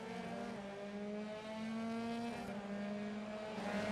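An F3 race car in a racing video game at the Red Bull Ring, braking into turn 4. A loud, steady engine tone drops in pitch as the car slows, then shifts and rises again, with no voice over it.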